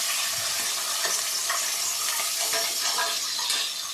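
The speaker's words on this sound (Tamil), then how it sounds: "வெங்காயம் போட்டேன் ஃப்ரெண்ட்ஸ் வெங்காயம் ஒரு பக்கம் வதங்கி இருக்கேன்" Onions sauté in a pan for hotel-style sambar rice, giving a loud, dense, continuous sizzle. Faint scraping and stirring strokes run through it, and no one speaks.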